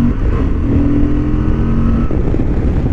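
A 2023 Honda XL750 Transalp motorcycle rides a racing track, its engine a loud, steady drone with a sustained tone throughout, pitch shifting slightly toward the end, mixed with wind rush and no talk.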